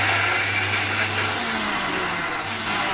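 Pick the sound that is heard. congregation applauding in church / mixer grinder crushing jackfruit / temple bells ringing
mixer grinder crushing jackfruit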